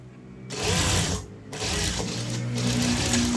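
A sewing machine stitches a hip belt in steady whirring runs, pausing briefly before resuming its close, even mechanical hum.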